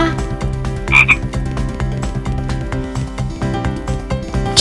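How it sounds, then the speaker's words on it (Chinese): A frog croaks in a steady, rapid rhythm of pulsed calls that runs throughout at moderate loudness, alone and without speech. "青蛙"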